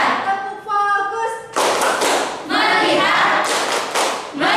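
An eighth-grade Islamic school class performs a rhythmic clapping routine, bursts of hand claps mixed with children's voices chanting along, loud and close.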